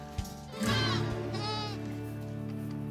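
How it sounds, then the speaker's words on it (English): Genetically modified goats bleat in a loud, close, wavering cry about a second long, followed by a second shorter bleat over steady farm background noise. "It's impossible just by looking to tell these goats from their non-spidey brethren."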